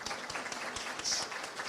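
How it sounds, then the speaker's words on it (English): Audience applause at a congressional awards reception: a soft, steady patter of clapping heard from a distance, fairly faint, with no voices over it. "Please give her another round of applause."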